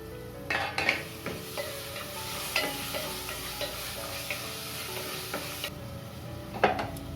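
Tomatoes sautéing in hot oil with ginger and garlic for Kerala mutton curry, a steady close sizzle with scraping spoon strokes and occasional clinks against the pan throughout.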